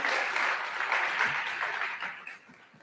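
Convocation audience at a college fall gathering gives a short burst of steady applause that fades out toward the end, with no talking over it.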